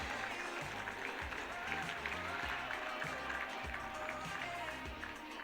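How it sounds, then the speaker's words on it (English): Applause from the audience at a business awards ceremony officiated by the Prime Minister of Fiji, a continuous even patter of many hands heard from a distance and fairly quiet throughout. "please can we give them another big round of applause?"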